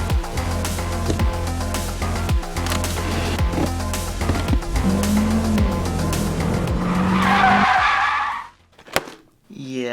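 A car drives hard with engine roar and repeated sharp tire squeals and skids, loud and close, building to a long screech before cutting out near the end.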